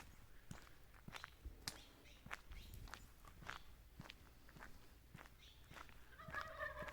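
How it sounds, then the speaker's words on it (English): Wild turkeys gobble in the distance at Bonita Canyon Campground amid scattered footsteps and outdoor rustling, a burst of calls rising clearly near the end. "you hear the turkeys at night and in the morning"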